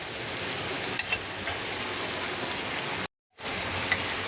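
Shrimp with pointed gourd, potato, tomato and spices sautéing in a pan, giving a steady, close sizzle with a brief stir clatter and a short dropout near the end.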